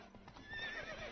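A horse gives a short whinny over faint background noise, with soft hoof sounds underneath, all fairly quiet and brief.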